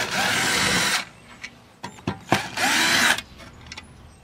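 Power screwdriver backing out two Phillips screws from an outdoor GFCI outlet cover: two loud, close whirring bursts of about a second each, separated by small clicks and handling knocks.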